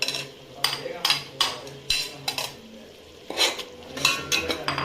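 Ginger-garlic paste with chili, coriander and mint frying in a pan, dominated by repeated metal spoon scrapes and clinks against the pot over a soft sizzle, close and busy throughout.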